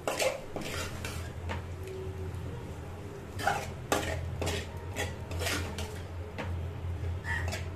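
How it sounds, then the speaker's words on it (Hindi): Sabudana khichdi being stirred in a pan, with repeated metal spoon scrapes and clinks against the cookware in an uneven rhythm over a low background hum, close by and without talking. "अभी इसे अच्छे से मिक्स कर लेंगे।"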